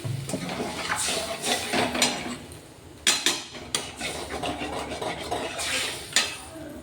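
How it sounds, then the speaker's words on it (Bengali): A kadai pan being scrubbed clean, with rubbing and scraping, clinks of metal and a splash of water, close and continuous, with no talking. "আমি কড়াইটা তখন প্যানটা পরিষ্কার করে নিচ্ছি"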